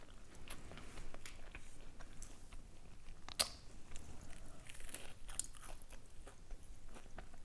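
Close, quiet chewing of flaky, potato-crusted fish with chips, soft crunches and wet mouth sounds repeating steadily, with one sharper crunch partway through and no talking.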